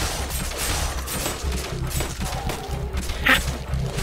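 Gunfire in the Night of the Dead video game, scattered shots and a sharp burst over a low rumbling game soundscape, fairly close and moderately loud.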